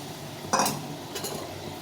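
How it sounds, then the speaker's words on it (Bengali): Fried okra goes into a simmering poppy-seed gravy and is stirred, giving a couple of faint, brief spoon clinks and scrapes against the pot, with no voices. "এখন আমি এই ঢ্যাঁস ভাজা ঢেঁড়সগুলোর মধ্যে দিয়ে দিই"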